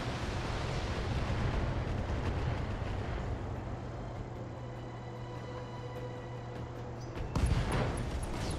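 A Catapult mech blows up in BattleTech, a loud sustained explosive roar over battle rumble that ends with a sharp metallic crash.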